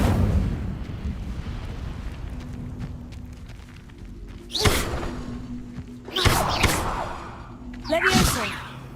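A fire spell cast in Hogwarts Legacy, played as a series of loud whooshing bursts with crackling flares, three separate blasts in the back half over a low ambient game hum.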